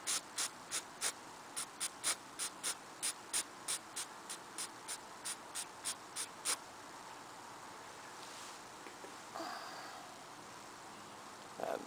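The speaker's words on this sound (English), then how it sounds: "Alright, so start spraying." Rapid series of short aerosol spray bursts onto a Tecumseh lawn mower engine, about twenty quick hisses in a row, then quieter rustling and a few faint softer sprays.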